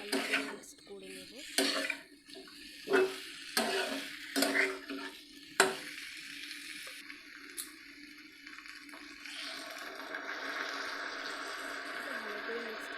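Potato and pointed gourd curry stirred in a pan with a spoon, giving repeated clinks and scrapes against the metal in short bursts, then a steadier soft sizzle and rustle toward the end.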